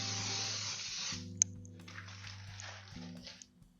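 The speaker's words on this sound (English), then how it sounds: "I'm going to give this a very light coating of baking spray." A steady hiss of baking spray from an aerosol can onto a scone pan, a couple of short bursts close by, with a low hum in the background.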